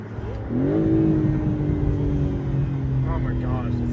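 A 2025 BMW M4 Competition xDrive convertible with the top down revs its engine, a loud sustained rising growl that holds steady at high volume, with a voice speaking briefly near the end.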